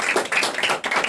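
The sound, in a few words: audience applause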